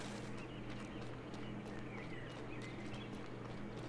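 Steady horse hoofbeats clip-clop through the Little Misfortune video game soundtrack, a continuous quiet rhythmic trot set over a low droning background.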